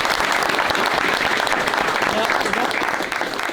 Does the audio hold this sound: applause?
yes